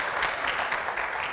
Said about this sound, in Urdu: تو آپ ان کے لیے بھی تالی بجا سکتے ہیں